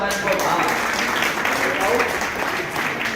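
An audience at a Hindi poetry gathering honouring a martyr claps continuously, a dense, steady wash of applause from a crowd filling the hall.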